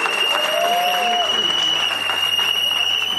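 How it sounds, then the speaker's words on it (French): Guests at a customary wedding in the Republic of Congo applaud, a continuous wash of clapping with a constant electronic tone and crowd noise underneath, steady throughout. "Est-ce qu'on peut encore applaudir pour eux?"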